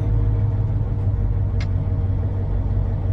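A vehicle in the game Volcanoids drives along with a steady low engine rumble, loud and continuous, broken by a brief higher click partway through, with no voices.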